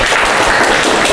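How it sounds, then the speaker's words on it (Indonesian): Applause from an audience in a university law faculty lecture, dense and steady clapping filling the whole moment at full volume. "Kita berikan aplaus dulu"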